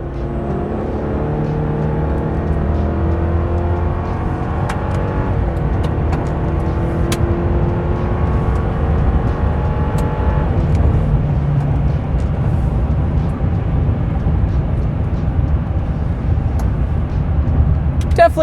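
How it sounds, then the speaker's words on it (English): A Chevy 1500 pickup's 2.7L turbo four-cylinder pulls hard under full throttle from about 60 km/h on a straightaway, its engine tone rising steadily in a loud, close cabin drone with faint speech mixed in. "I'm sure you guys heard the engine"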